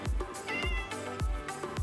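Cat meowing in Minecraft Java Edition, a series of four or five short, clear game meows repeating at a quick, fairly regular pace, close and distinct with no voice over them.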